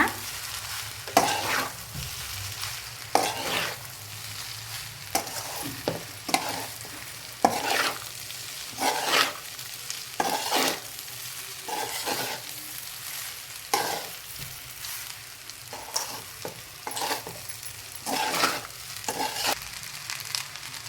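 Egg fried rice stirred and tossed in a hot pan, with a spatula scraping in irregular strokes over a soft continuous sizzle, close and moderately loud, with no talking.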